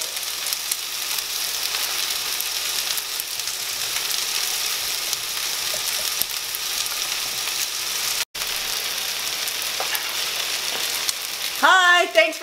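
Peppers for vegetarian fajitas frying in a pan, a loud, steady close sizzle that hisses continuously for about twelve seconds before a voice briefly cuts in at the end.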